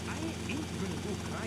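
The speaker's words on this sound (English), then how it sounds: "I really enjoy flying the helicopter in this game" A helicopter's rotor and engine drone steadily and loudly in GTA Vice City, a continuous whirring hum filling the brief moment.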